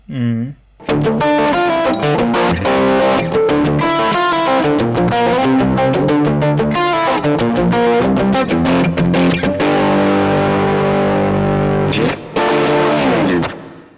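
Beefy electric guitar chords driven through a Wampler Pinnacle distortion pedal, loud and dense with rhythmic strummed hits and brief stops, heard alone without talk.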